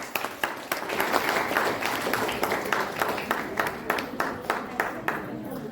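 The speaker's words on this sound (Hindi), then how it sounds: "एक बार तालियों की गड़गड़ाहट" Audience applause at an All India Brahmin Front golden-couple and heritage honour ceremony: dense, sustained clapping from a sizeable crowd, steady and loud throughout, with sharper individual claps standing out and no speech over it.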